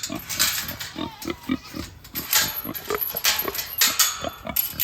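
Close-up pig grunts come in a quick series of short, low snorts, loud and continuous, with a few louder rustling noises mixed in.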